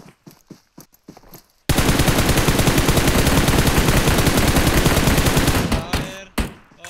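Gunfire in a PUBG custom match: a few scattered single shots, then a loud, sustained automatic burst lasting about four seconds, followed by more sparse shots as it ends.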